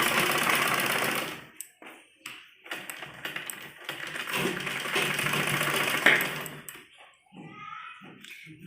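A sewing machine runs in long steady bursts, stitching along the edges of a net baby frock, with brief pauses between runs and a faint clack near the end.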